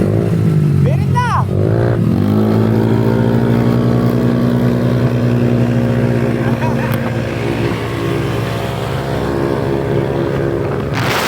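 A Yamaha Aerox V3 turbo scooter engine revs hard at full throttle, climbing in pitch, then holding a loud, steady, buzzing drone close by as the ride continues.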